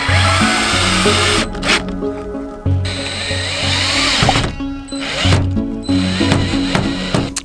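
Power drill driving screws while a MaxxAir Deluxe fan is installed in a Ford Transit van conversion, loud bursts of whirring that start and stop several times in close succession.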